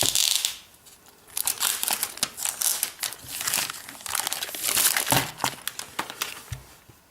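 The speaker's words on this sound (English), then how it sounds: "let's go ahead and peel off this plastic" Protective plastic film being peeled off a Logitech Ultrathin iPad keyboard cover and crinkled close by, with crackling bursts and rustles that continue in irregular waves.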